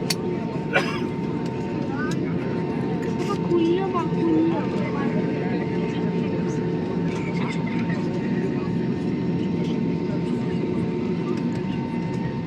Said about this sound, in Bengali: দেখা যাচ্ছে রানওয়ে ধরছে, রানওয়ে ধরছে, সোজা হয়ে যাবে।